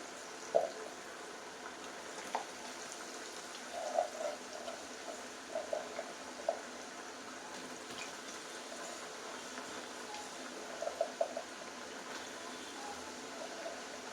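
Colocasia (taro, chemagadda) pieces deep frying in hot oil, giving a soft, steady sizzling hiss with scattered faint pops and crackles, fairly quiet with no talking.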